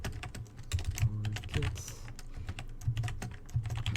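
Code being typed on a computer keyboard: a fast, steady stream of close key clicks with brief pauses and no one talking.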